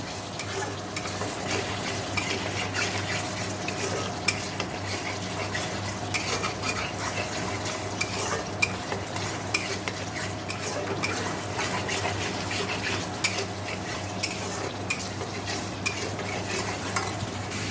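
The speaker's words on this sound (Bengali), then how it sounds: "দেখো মশলাটা দিয়ে তেল ছাড়তে শুরু করে দিয়েছে" Masala frying in oil in a home kitchen pan, a steady close sizzle throughout with intermittent scraping and stirring clinks of a spoon against the pan, no voices.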